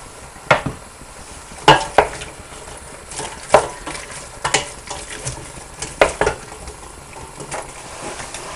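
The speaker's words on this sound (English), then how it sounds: "I want to tip the onions in now, give them a good old stir." Onions sizzle in a pan while braised beef is prepared, stirred with sharp scraping clacks of a utensil against the pan at irregular intervals over a steady frying hiss, close and fairly loud, with no talk.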